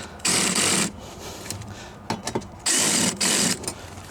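Ratchet clicks in quick bursts while hex bolts are tightened inside a Lexus GX460, two longer runs of dense metallic clatter framing a few short, sparse strokes, close and fairly loud.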